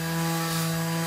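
A Bosch PSM 200 AES electric sander runs at a higher speed setting, giving a steady, close motor hum with a constant rubbing drone and no talk over it.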